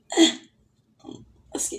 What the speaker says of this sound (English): I'm about to burp. Feels like a volcano.